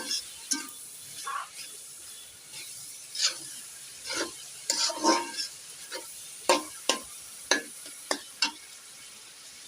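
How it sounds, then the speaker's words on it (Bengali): Onions frying with a little salt in a pan, a low background sizzle broken by repeated stirring scrapes and rasps of a spatula at an irregular rhythm, with no talking. "আমরা পেঁয়াজ ভাজা পর্যন্ত অপেক্ষা করি,"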